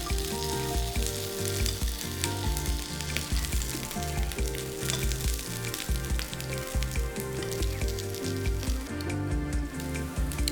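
Pancakes (oladushki) for a baby cooking slowly in a covered pan over low heat, a steady close sizzle and frying crackle running continuously without speech, though music-like tonal bands sit over it.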